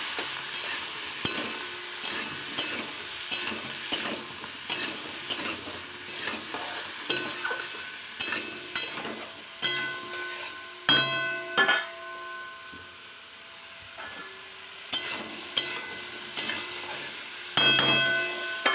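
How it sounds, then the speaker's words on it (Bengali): Pointed gourd (potol) fries in a pan with salt and turmeric: a steady close sizzle broken by repeated rhythmic clinks and scrapes of stirring, with no talk. "পটলগুলো ভাজা হয়ে যাবে,"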